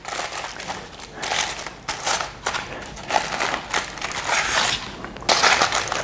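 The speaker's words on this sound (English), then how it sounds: "So I'm going to use this long spatula to help me peel the foil back," Aluminium foil is peeled away from a tray of brownies with a long spatula, making close crinkling and crackling bursts that come and go unevenly over several seconds.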